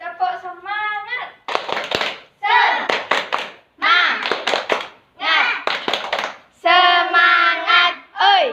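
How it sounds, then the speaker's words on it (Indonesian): A class of sixth-grade children chants the tepuk semangat clapping routine in a classroom, loud young voices in rhythmic bursts punctuated by sharp group claps. "kita tepuk semangat terlebih dahulu"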